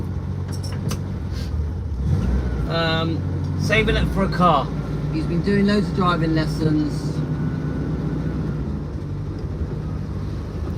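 A 1967 VW Splitscreen van drives along with a steady, close low engine rumble running throughout, while someone talks over it for most of the stretch.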